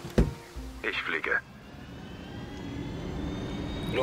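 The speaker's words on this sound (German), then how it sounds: "Schnappen wir uns den Heli und bewegen uns zu unserem nächsten Ziel." A helicopter in Ghost Recon Wildlands spins up into a steady whining engine drone that builds gradually and stays fairly loud after a few brief bursts of other game sounds.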